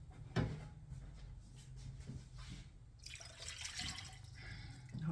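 Warm water running from a kitchen tap, a soft steady stream that grows louder and hissier partway through, close by with a few small knocks and clatters of jar and counter.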